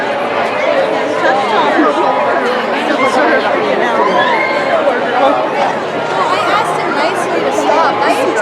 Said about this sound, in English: we got really loud talking people in front of us